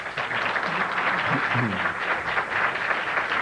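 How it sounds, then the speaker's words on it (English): Audience applause at a 1997 New York City Public Advocate debate: a steady, dense wash of clapping from a crowd, holding at an even level throughout, with a voice faintly underneath. "I ask you refrain from your applause until the very end"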